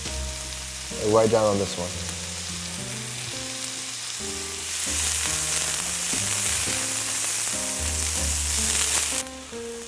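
Mushrooms sauté with a steady sizzle in a pan and are tossed, so the frying swells louder through the middle, while someone talks briefly over it near the start.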